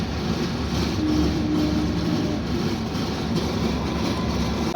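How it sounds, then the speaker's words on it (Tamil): A train rolls past close to a railway level-crossing gate, a steady loud low rumble of wheels and carriages filling the whole stretch without pause. "ஒரு ட்ரெயின் போகுது, ஒரு ட்ரெயின் வருது பாருங்கள்."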